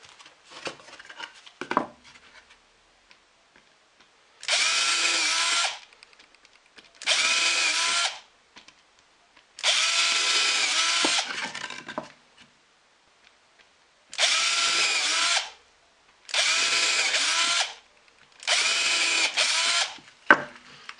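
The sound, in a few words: power drill drilling holes in wood for a storage box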